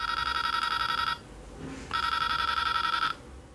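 An infrared receiver circuit triggered by a TV remote control emits a steady electronic beeping tone, sounding about a second, pausing briefly, then resuming for another second, loud against faint background hiss.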